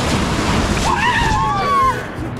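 Water sloshing and surging in a water park wave pool, a loud continuous wash of splashing surf with a voice briefly calling out over it near the middle.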